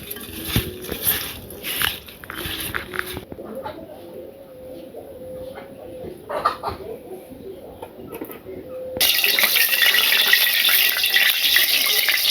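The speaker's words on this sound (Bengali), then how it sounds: "এই পুঁটি মাছগুলো ভেজে নিলেই হয়ে যায় রান্নাবাড়ি।" Small puti fish (pool barb) fry in a pan in a village kitchen with a soft sizzle, while pigeons coo nearby. The sizzling swells to a loud, steady hiss in the final few seconds.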